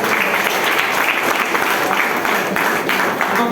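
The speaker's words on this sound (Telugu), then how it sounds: "ఒకసారి మీకోసం నేను గట్టి క్లాప్" Loud, dense clapping from a large audience at a Telugu business-plan meeting, steady and continuous from start to finish with a roar of many hands close by.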